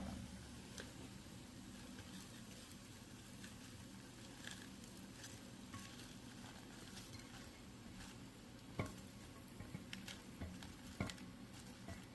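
Quiet, steady crackling and hissing of food frying in a Ninja Crispi air fryer, with occasional louder pops and clicks, no talking.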